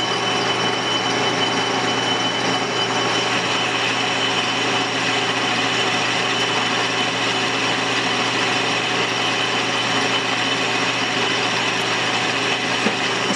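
A metal cutting machine takes a depth cut on an idler wheel shaft for a Do-All saw, giving a constant, loud mechanical whir and rumble that holds steady throughout with no talk.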